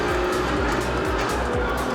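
A car engine from a racing driving simulator at a GR Garage hums and revs steadily and loudly, with repeated rising and falling swells and tyre-like squeals in a busy room.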